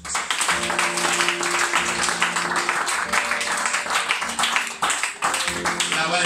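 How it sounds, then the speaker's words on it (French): A worship congregation claps and acclaims during a church service, fast dense applause mixed with music and voices, loud and sustained throughout. "Acclamez le Seigneur Jésus"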